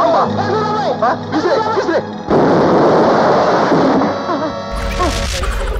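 Voices give way to a sudden loud bomb explosion, a roaring burst of noise that rumbles on for a couple of seconds before other sounds take over.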